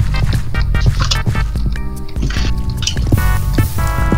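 Minecraft water flowing over netherrack, rendered as a string of wet drips and squishy liquid trickles amid busy game sounds, fairly loud and continuous with no talk.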